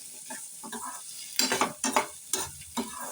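Onion and coconut sautéing in a pan for chicken gravy, a soft steady sizzle broken by several louder scraping stirs of a spoon, close and without voices.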